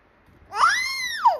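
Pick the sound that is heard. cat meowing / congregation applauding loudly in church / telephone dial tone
cat meowing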